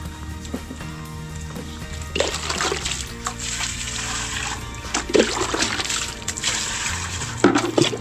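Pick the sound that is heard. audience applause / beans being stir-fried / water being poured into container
water being poured into container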